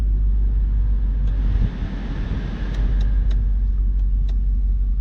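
A BMW 540i engine idles steadily after a cold start, a loud, continuous low rumble close by with a brief dip midway and a few faint clicks above it.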